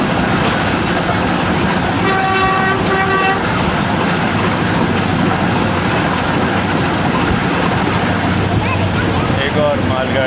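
Loud continuous rumble of a passing freight train in Pakistan, with a two-part horn blast near the start and a fainter horn near the end.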